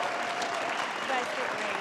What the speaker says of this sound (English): How about a huge round of applause for our amazing kids?